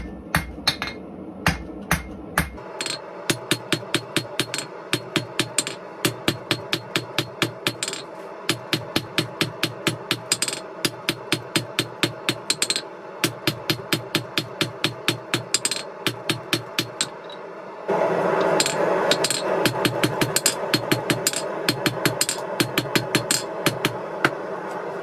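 Rebar is hand-forged into a fire poker, with a hammer striking hot steel on an anvil in a steady fast rhythm of dozens of ringing metallic blows, close and loud. A roaring forge hiss swells in near the end.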